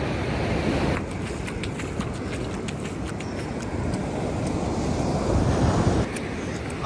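Ocean surf breaking on a beach during a shoreline walk, a steady loud wash of waves with gusty wind buffeting the microphone throughout and a brief lull near the end.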